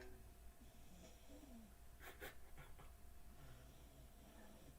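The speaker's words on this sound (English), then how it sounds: "Can you hear my dog snore in the background?" A dog snores softly nearby, with rough, breathy snorts and pants against a steady background hum.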